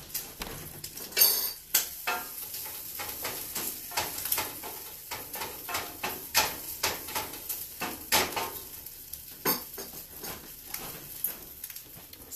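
Bacon is stirred in a frying pan with a utensil, giving repeated metallic scrapes and clinks against the pan in an irregular rhythm, close up, over a faint sizzle.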